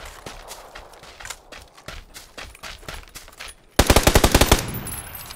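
Automatic gunfire in the battle royale game PUBG on the Sanhok map during a duo tournament: scattered single shots and footsteps, then a loud rapid burst of about a dozen close shots near the end.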